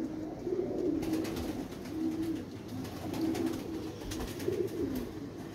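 Soft, repeated coos from a black pigeon, four or five rolling phrases at a steady pace, close and fairly quiet over light background noise.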